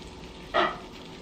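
Chopped garlic hits melted butter in a pan with a short sharp sizzle that swells and fades within a moment, over a low background hiss.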